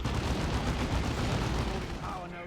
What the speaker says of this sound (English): All those side cannons.